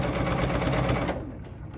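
A sewing machine stitches through quilt seams in free motion quilting, a fast buzzing run that slows and stops partway through, followed by a short quiet tail.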